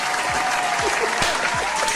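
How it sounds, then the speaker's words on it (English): An audience claps in brisk, dense applause that is loud and steady for the whole moment, with faint crowd murmur underneath. "Let's give her a hand clap for that."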